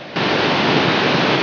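The Neyyar river rushing in monsoon flood gives a loud, steady broadband roar of churning water that rises abruptly and holds without pause.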